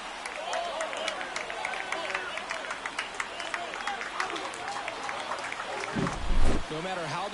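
Home crowd at a San Diego ballpark in MLB 24 roars steadily after a home run, a dense wash of cheering and clapping that holds throughout, with a commentator talking over it.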